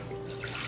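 Water pours steadily for under a second into a container, a smooth continuous splash as it is measured out for a lime and lemon zest cocktail about to be blended.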